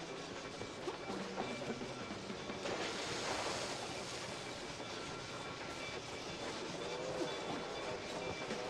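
A train rumbles past continuously in the video game MOUSE: P.I. for Hire, a loud, dense roar with rattling wheel noise that swells around the middle and holds steady to the end, no talk over it.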